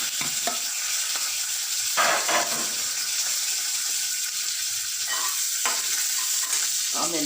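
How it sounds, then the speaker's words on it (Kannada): Cumin seeds and curry leaves crackle and sizzle in hot oil for baingan bharta. The loud frying hiss runs steadily throughout, broken by a few sharp bursts and scraping stirs, with no talking. "ಆಮೇಲೆ ಕರಿಬೇವಿನ ಸೊಪ್ಪು ಹಾಕ್ತಾಯಿದ್ದೀನಿ."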